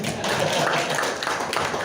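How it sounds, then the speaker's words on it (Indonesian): An audience at a character-building talk claps for a participant, a thick, continuous burst of applause filling the room without pause. "Tepuk tangan buat Pak Gun dong"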